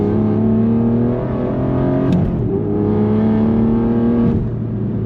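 A loud Aston Martin V12 Vantage S engine revs hard and close, its deep, steady roar swelling and settling with a brief shift in pitch partway through, and no talk over it.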